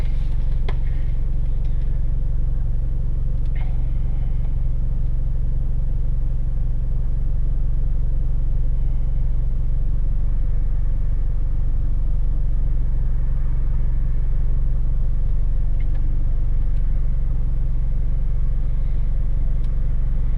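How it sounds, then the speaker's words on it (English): Mitsubishi Evo X MR idling with the handbrake up, a steady low rumbling engine tone held evenly and close throughout, with no talk over it. "Put the handbrake up and let it idle just a little bit first before I switch it off."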